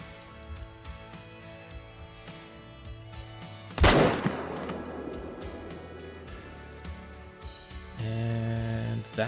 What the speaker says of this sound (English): And that was a good shot.